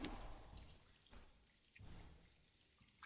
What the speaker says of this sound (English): What's that trickling sound?